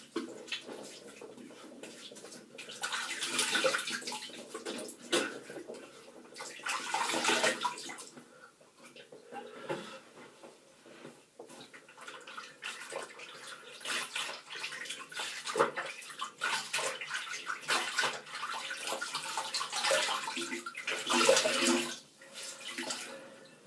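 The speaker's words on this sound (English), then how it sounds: "So I'm gonna have a good rinse of my face now" Water runs and splashes in a bathroom basin as someone rinses their face, the flow coming in uneven surges with quieter pauses across the whole stretch, and no talking.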